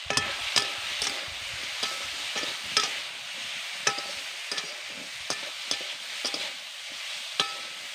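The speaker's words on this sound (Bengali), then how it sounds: "এবার ভালো করে মিশিয়ে নেবো" Vegetables frying with turmeric, chili powder and salt for a Bengali greens dish are stirred in a pan, giving steady scraping strokes at a fairly regular rhythm over a soft sizzle, close and alone.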